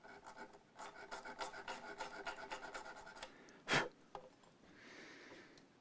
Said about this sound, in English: Right, bit of sandpaper.